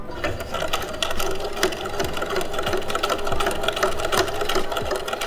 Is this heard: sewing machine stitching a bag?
yes